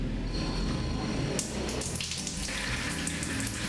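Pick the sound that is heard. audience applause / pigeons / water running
water running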